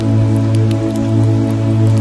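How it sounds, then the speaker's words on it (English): Soft raindrops tap against a window in scattered light ticks over a steady low hum, calm and continuous, with no voices. "You focus on the raindrops, quietly tapping against the window."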